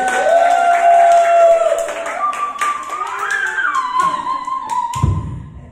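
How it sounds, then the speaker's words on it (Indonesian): Clapping and cheering from a church congregation of about 1,500 people at an Indonesian worship service, loud and sustained at close range over sustained musical or vocal tones, with a low thump near the end. "Mari kita tepuk tangan buat Tuhan Yesus"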